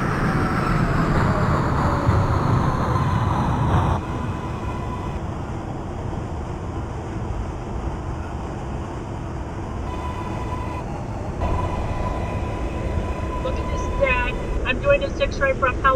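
An R142A New York City subway train on the 6 line to Brooklyn Bridge, simulated in the Openbve game, with a continuous rumbling run and whining motor tones, a shift in noise partway through, and faint chime-like tones near the end.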